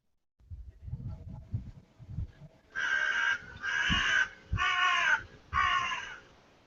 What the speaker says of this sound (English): there's some crows flying around there.